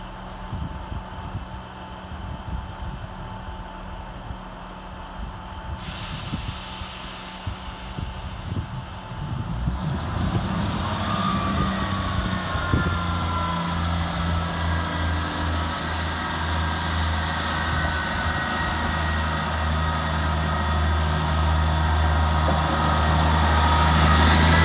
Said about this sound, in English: 158910 departs with the 1517 Northern service to Hull.